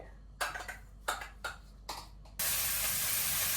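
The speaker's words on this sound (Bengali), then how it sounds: "এই যে এখন যে তেল দিয়ে দিচ্ছি মাছটা ভেজে নেই আগে" Fish dropped into hot oil bursts into a loud, steady sizzle after a few short clattering knocks, the frying hiss continuing broadband and close to the end.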